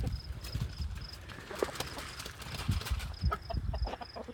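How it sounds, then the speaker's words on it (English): Chickens in a farmyard make soft, scattered clucks and scuffling sounds close by, with faint thuds, a repeating high beep and some shuffling movement. "Hey, chickens."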